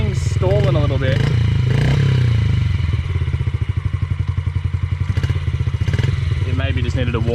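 Petrol TTR dirt bike engine idling roughly and stumbling as it nearly stalls, a close, loud uneven putter with brief revs, while people talk over it.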